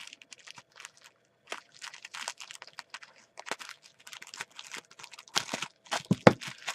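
A mail package being cut open, with scattered crinkling and snipping sounds in short bursts, fairly quiet and close, ending in a few louder sharp cuts.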